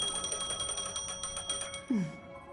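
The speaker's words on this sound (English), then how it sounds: "A phone." A phone ringing in the game Honkai: Star Rail, a bright electronic trill pulsing in quick repeated bursts that stop, followed by a short sweeping tone.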